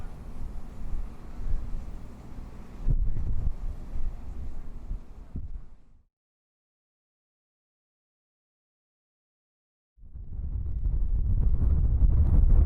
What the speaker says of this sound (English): Okay, we have a lot of wind, you guys